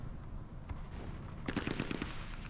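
A squad's small-arms volley in a wargame mod (ASL mod): a quick burst of several sharp gunshots clustered together, fairly close, over a steady low background rumble.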